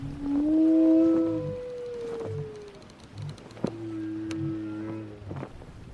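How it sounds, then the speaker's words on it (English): A distant whale call at sea in a radio drama, long gliding moaning tones rising and falling in two drawn-out phrases over a soft wind and water bed. "We hear the sound of the wind and the sea in the wake of the ship, and distantly, the sound of a whale."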